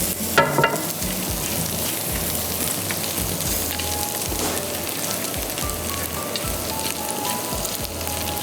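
Crushed garlic sautéing in butter and oil in a pan, a steady close sizzle and fry crackle lasting throughout with no talk over it.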